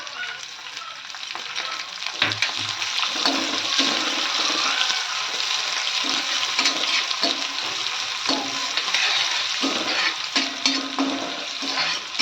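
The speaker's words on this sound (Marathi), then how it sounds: "त्याच्यानंतर कांदा वळून घेणार आम्ही" Onion sautés with curry leaves in a pan, giving a loud, continuous sizzle and hiss. Soft rhythmic stirring scrapes recur throughout, with no talking.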